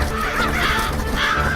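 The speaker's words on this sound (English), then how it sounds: "The crows had flown straight up through the trees." Crows cawing, two or three harsh, hoarse calls in quick succession, loud and close, over a low steady background.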